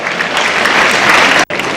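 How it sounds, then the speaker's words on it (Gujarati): Dense, loud applause from an audience at a school inauguration roars steadily, then cuts out briefly near the end before resuming. "ખૂબ ખૂબ તાળીઓના ગડગડાટથી વધાવો."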